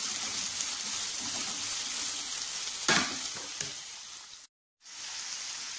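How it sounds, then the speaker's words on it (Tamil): Onions sautéing in oil for chicken salna, a steady close crackling sizzle with a brief stir around the middle, cut by a short silent gap near the end before the frying resumes. "வெங்காயம் வந்து நல்லா வதங்கிட்டு இருக்கு"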